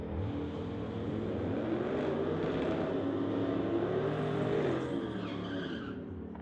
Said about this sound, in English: We've got Ricky from Surrey in the 2008 Jeep going against the Supra on the spectator